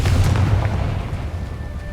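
The Confringo explosive spell goes off in the video game Hogwarts Legacy, a heavy booming blast with a deep rumbling tail that fades over about two seconds, loud and alone.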